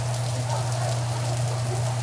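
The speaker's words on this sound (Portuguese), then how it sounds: "E adivinha se não começou a chover" Rain falling steadily in Filandia, Colombia, a dense even hiss over a low constant hum, unbroken for the whole stretch with no talk.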